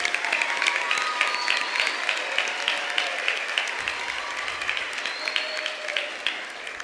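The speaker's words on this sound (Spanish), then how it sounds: "Fuerte el aplauso para los 12 participantes." Steady, lively applause from an audience at a regional youth oratory final, honouring the 12 contestants, heard at a moderate distance with occasional whistles and murmured voices.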